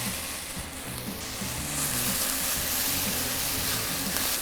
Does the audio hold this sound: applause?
no